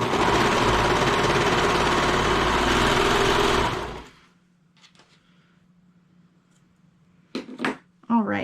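Sewing machine stitching the cuffs of a knit sweater, a loud steady whirring run for about four seconds that stops abruptly, followed by quiet room sounds and brief voice sounds.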